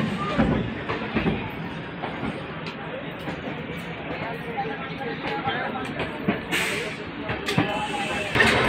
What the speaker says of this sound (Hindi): तो दोस्तों अब ट्रेन रुक चुकी है